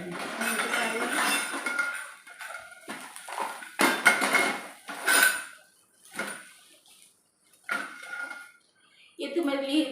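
Steel puja utensils and a lidded steel lunch box clink and clatter in scattered bursts, bright metallic knocks separated by short gaps, with someone speaking in between.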